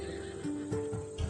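A horse in a video game whinnies with a wavering, sustained call, followed by a short snort, fairly close and clear over a faint background.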